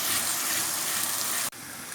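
Water pours steadily into a pan of chopped tomatoes and onions while lauki chana daal is cooked, a continuous close gushing splash that cuts off abruptly near the end.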